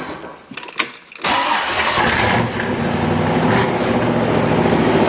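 A 1966 Corvette Stingray roadster engine cranks briefly with a few starter whirs, then fires and settles into a loud, steady idle on choke, heard close with no talking.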